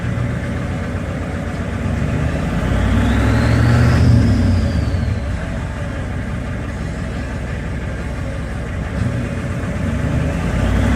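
A 7.3 IDI diesel engine idles steadily with a fresh oil pressure sender fitted, a low rumbling drone running the whole time with a brief swell in the middle and no talking.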